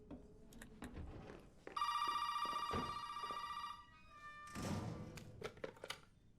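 A telephone rings in the horror video game Resident Evil 7, a steady electronic trill lasting about two seconds, set among soft thumps and footsteps, followed by another short burst of noise and scattered taps.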